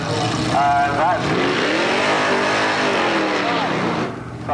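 Drag race cars at York Raceway, a red and black Camaro among them, roar loudly and continuously with engine pitch sweeping up and down, under a commentator's voice.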